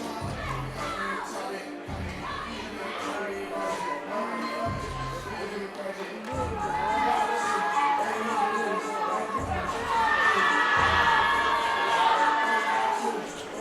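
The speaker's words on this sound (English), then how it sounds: "he also has a crowd of like 15 people here getting hyped for him" A small crowd of about fifteen people at a powerlifting national championship chatters and shouts encouragement, swelling into louder cheering in the second half, with rhythmic thumps underneath.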